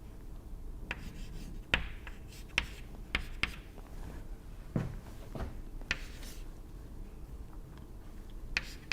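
Equations written during a lecture on thin film dynamics, scratchy marker or chalk strokes with sharp taps at intervals, close and moderately quiet, no talking.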